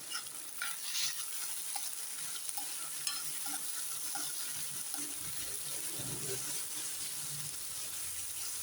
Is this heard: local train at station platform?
no